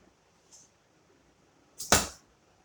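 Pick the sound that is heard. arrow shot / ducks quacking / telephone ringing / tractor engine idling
arrow shot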